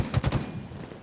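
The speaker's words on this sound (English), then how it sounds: "trying to pepper him with shots" Rapid automatic gunfire from a Halo esports match, a short burst of three or four sharp shots up front that quickly thins into softer game ambience, with no talk over it.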